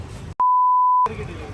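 A single steady censor beep lasting about two thirds of a second, loud and clean, cutting sharply into the surrounding room noise.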